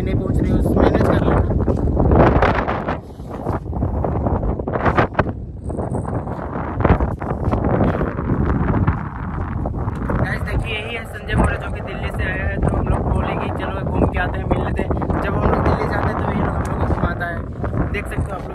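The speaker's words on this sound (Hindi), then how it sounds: "बहुत ज्यादा हवा चल रहा है" Strong outdoor wind buffets the microphone at a historic hilltop site in Khunti, Jharkhand, producing loud, continuous low rumbling gusts throughout, with people talking over it.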